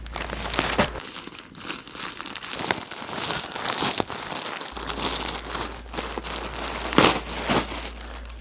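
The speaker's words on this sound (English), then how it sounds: "We do have a couple of samples to open up, so let's get right to it." Plastic packaging around clothing samples crinkles and rustles loudly as it is unwrapped, with bursts of crackling and tearing near at hand, and no voices.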